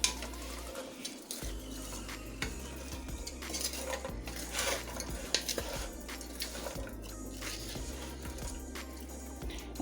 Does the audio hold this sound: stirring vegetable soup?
yes